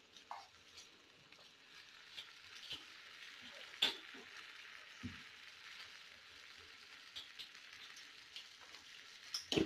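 Chicken being stirred into a creamy sauce in a pan: a quiet, soft simmering hiss runs throughout, broken by light scraping and a few sharp clicks of the utensil against the pan.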